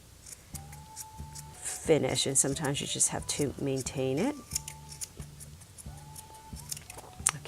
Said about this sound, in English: All you do is take your scissors and see how little I'm trimming off.